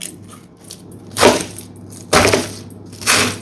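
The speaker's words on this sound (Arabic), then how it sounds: "رح قطع خس" Lettuce for a salad being cut with a knife, three crisp crunching chops spaced about a second apart, close and fairly loud with no talk.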